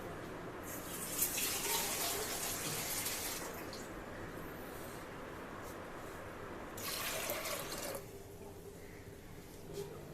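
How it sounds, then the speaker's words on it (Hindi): Water streams and splashes steadily into a pot of mixed dal, stopping briefly and then pouring again before ending. "तो हम यहाँ पे पानी और ऐड कर देंगे।"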